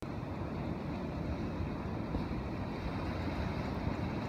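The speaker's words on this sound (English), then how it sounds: "As we watch the ocean waves ebb and flow, we see small ripples on the water." Steady ocean waves washing and rolling in a continuous broadband roar, with a windy, even texture and no distinct breaks or voices.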